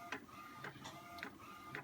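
An Epson P600 photo printer at work, a soft mechanical whir with rhythmic clicks and swishes of the print head repeating about every half second, close and steady without talk.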